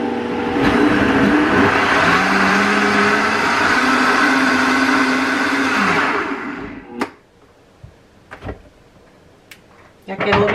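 A kitchen blender whirs loudly and steadily for about six seconds, grinding red chile sauce ingredients with water, then cuts off, leaving a few light clatters and bumps.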